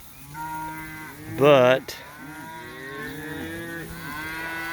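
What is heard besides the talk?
cattle mooing in a pasture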